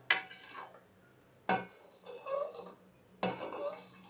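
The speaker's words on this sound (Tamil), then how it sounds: "நல்லா கிண்டிகிட்டே இருக்கணும்." A pot of boiling tomato jam made from two kilograms of tomatoes is stirred with a utensil in three distinct scraping strokes, each with a sharp metallic clink at its start, with quiet bubbling between them.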